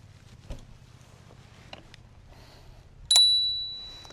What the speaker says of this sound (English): It's got its own bell.